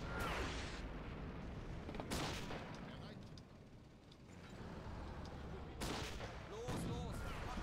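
An anti-tank rifle fires at the player on a cold Eastern Front battlefield in the Real Warfare video game: several loud, sharp blasts amid continuous rumbling battle noise.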